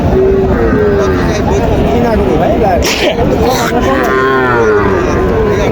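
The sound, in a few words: Sahiwal cross calf mooing at cattle market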